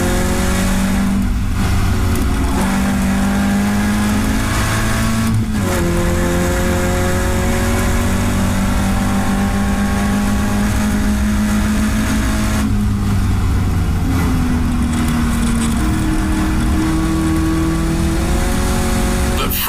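Caterham race cars roar around the Knockhill circuit, engines loud and close, revving and shifting through gears as they brake and accelerate through corners, with no talk over them.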